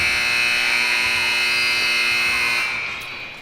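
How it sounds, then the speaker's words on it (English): A loud, sustained electronic buzzer ends the Eagan versus Waseca PeeWee A youth hockey third-place game at the Warroad tournament, droning steadily for about three seconds before cutting off and fading into arena ambience. "Buzzer sounds,"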